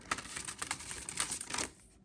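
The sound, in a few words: shuffling a deck of cards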